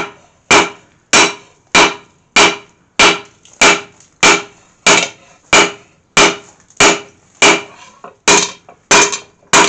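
Steel bill hook forged with a hand hammer, struck on the slightly slanted piece: about sixteen loud, evenly spaced metallic blows, each one ringing and then fading, close up and with no talking.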